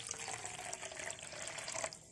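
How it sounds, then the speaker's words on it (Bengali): Water from a measuring cup pours steadily into a pan of blended rice paste, a faint, continuous trickling splash with no voices. "আর নর্মাল পানি দিয়ে দিচ্ছি 2 কাপ"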